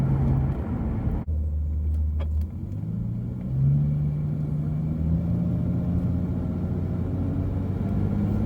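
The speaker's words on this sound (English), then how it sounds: "when I open it up, it does sound a bit more like a V12 should" A 1994 Jaguar XJS with a 6.0 V12 engine accelerates, its smooth low drone climbing steadily in pitch after an abrupt shift, loud and continuous with no talking.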